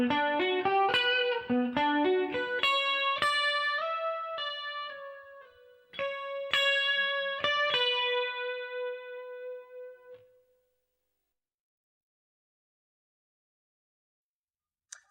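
An electric guitar slowly plays a solo part, a run of distinct picked notes with a long sustained final note that fades out, followed by a few seconds of silence.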